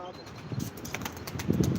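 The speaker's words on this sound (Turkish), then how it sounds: "Evet kuşumuz da havaya kalktı." A pigeon flaps its wings in a short burst of fluttering, moderately close, over a soft background murmur.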